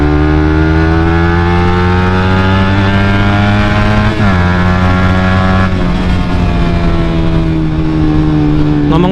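A Suzuki GSX motorcycle fitted with a WRX GP3 muffler idles loudly and steadily, with a brief blip of throttle partway through and a smooth, even exhaust tone throughout.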